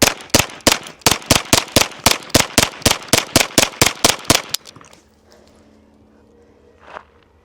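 A folding 9mm pistol-caliber carbine loaded from a 17-round magazine fires a fast, steady string of about twenty sharp shots at close range. The shots stop abruptly and leave faint rustling and one small clink.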